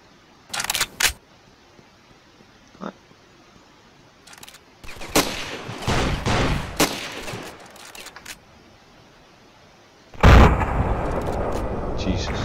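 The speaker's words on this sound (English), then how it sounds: "The sound of a gun. Very loud." Gunfire in the video game Ravenfield during trench warfare: a few sharp separated shots, then a cluster of rapid bangs, and finally a loud blast with a rumbling tail, close and prominent.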